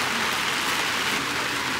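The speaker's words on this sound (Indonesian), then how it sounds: "Keren amat ya hujan." Steady, dense rain patters continuously on a surface, a close, even hiss with no pauses or voices.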